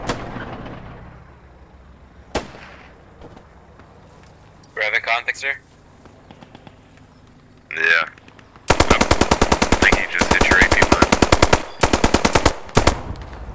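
Gunfire in the World War II shooter game Post Scriptum, a few isolated distant shots followed by loud rapid machine-gun bursts, with voices talking in between.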